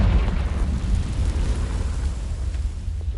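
A Confringo fire spell blasts in Hogwarts Legacy, producing a loud, deep rumbling explosion that roars continuously and fades slightly over a few seconds.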